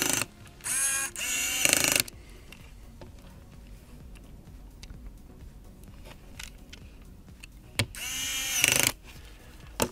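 An automatic electric screwdriver driving screws during an iPad charging port and battery repair, two loud whirring bursts at the start and again near the end, with faint clicking handling sounds in between.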